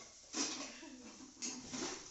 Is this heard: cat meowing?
no